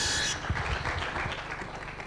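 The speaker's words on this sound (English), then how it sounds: "round of applause and some squishy balls" Applause at an awards event comes as a dense, fairly steady wash of clapping at moderate distance, with a few low thumps near the start, continuing evenly for about two seconds.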